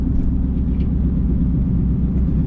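Ford Mustang with a six-cylinder engine and exhaust cutouts, rumbling steadily at low revs while crawling in traffic, a loud continuous close-up growl with no talk.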